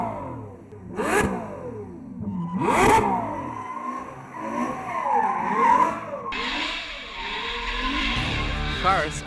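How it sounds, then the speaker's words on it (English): A drifting car with squealing, skidding tires and a revving engine, loud and close, with rising and falling whines in repeated swoops, then a broad rushing roar near the end. "I love drifting."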